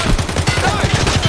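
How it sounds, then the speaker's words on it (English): Rapid automatic gunfire rattles in the Escape From Tarkov video game, a dense burst of shots in quick succession, loud and continuous throughout. "Stop firing!"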